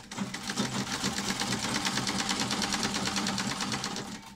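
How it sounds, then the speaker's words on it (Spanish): A hand-cranked home sewing machine with no motor fitted, stitching at a steady even rhythm, its fast regular clatter running close and clear for several seconds with no voices. "la máquina de coser de mi madre y"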